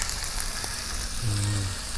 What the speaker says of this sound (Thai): ลงไปผัดนะหมูสามชั้นนะคะ